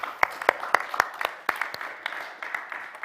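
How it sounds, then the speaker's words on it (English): Audience applause at an academic dance-studies conference talk: a short burst of sharp, distinct claps from a modest crowd, fairly close and steady for about three seconds, with no one speaking over it. "maybe a round of applause just to say thank you to Arabella again"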